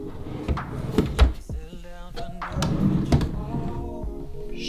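Closet drawers of clothes opened in a bedroom during a decluttering session, giving a few wooden thunks and a sliding rattle with scattered knocks, close and moderately loud.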